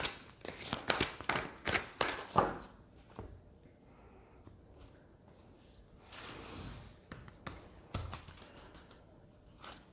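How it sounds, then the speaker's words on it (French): A deck of tarot cards being shuffled by hand: a quick run of crisp riffling flicks and slaps, then quieter, sparser card sounds, close and alone. "Donc là, je vais mélanger les cartes devant vous."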